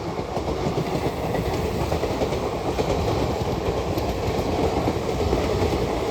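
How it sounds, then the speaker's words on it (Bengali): An Up Gour Express train hauled by an electric locomotive with LHB coaches rushes past while overtaking the Kaviguru Express, a loud continuous rumble of wheels on rails with steady clatter for the whole stretch. "ওভারটেক করে বেরিয়ে যাচ্ছে আপ গৌড় এক্সপ্রেস।"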